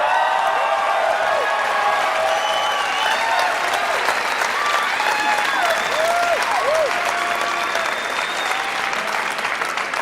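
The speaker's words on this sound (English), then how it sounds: "A round of applause just for knowing what school I'm at." Loud, sustained applause from an audience in a UCLA campus auditorium, dense clapping filling the room throughout, with a few voices and cheers mixed in.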